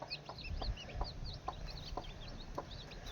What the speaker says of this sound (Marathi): किती छान आहेत कोंबडीची पिल्लं,